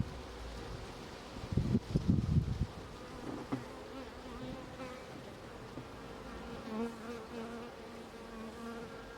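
Honey bees hum in a steady buzz around a nuc hive, with a louder, closer burst of buzzing early on before settling back to a softer background drone.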